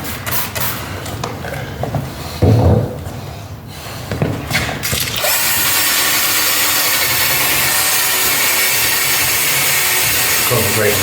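A headlight lens is being sanded with 2000-grit paper before polishing. Irregular rubbing and handling noises come first, then a steady, loud, continuous whirring grind fills the second half, close by and with no talking.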